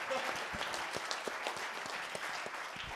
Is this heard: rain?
no